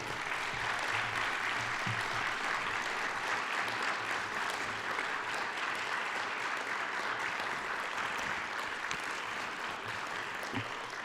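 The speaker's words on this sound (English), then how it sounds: "How about joining me with a round of applause" Audience applause at a 2022 alumni awards ceremony honoring the Young Alumnus of the Year, a steady wash of many hands clapping, even and sustained for about eleven seconds, somewhat distant in a large room.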